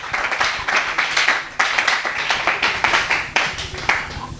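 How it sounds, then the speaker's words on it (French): A church congregation applauds loudly at a gathering for single people, with continuous rhythmic clapping that swells in repeated waves and has no voices over it. "Je veux que tu acclames très fort pour la gloire de Dieu."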